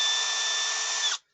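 A Milwaukee M12 hammer drill whirs at steady speed with a loud, high, even whine close by, then cuts off abruptly and spins down to silence.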